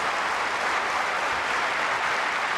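Stadium crowd clapping before a long jump attempt at an athletics meet, a dense, steady wash of applause throughout, fairly distant and even in loudness.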